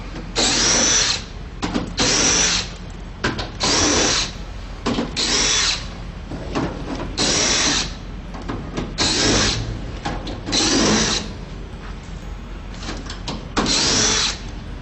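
Screws are driven out of the burner box cover plate on a high-turndown DJ burner with a power drill, which whirs in about ten loud, short bursts separated by brief pauses.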